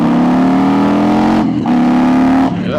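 Harley-Davidson motorcycle accelerating hard in first gear, a loud, close, steady engine roar with a rising pitch and two brief dips as the throttle eases, with no talking.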